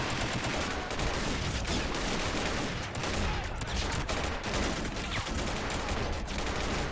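Rapid, continuous gunfire from a plastic army men battle in a video game, with dense crackling bursts and volleys overlapping at a steady loud level for several seconds.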